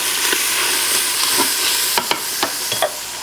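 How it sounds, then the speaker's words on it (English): Spoon stirring garlic powder and black pepper into a pot of sausage, potato and kale soup, a steady low simmering hiss broken by several sharp scraping strokes near the end, close and alone. "We'll just stir that in"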